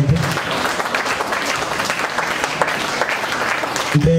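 Dense, steady applause from a church congregation fills the whole stretch, many hands clapping together at an even loudness with no pause.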